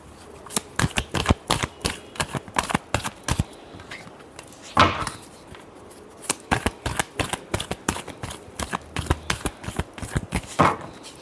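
Tarot cards are shuffled by hand in quick bursts of crisp flicking riffles and taps, close and clear, in an uneven rhythm with brief pauses.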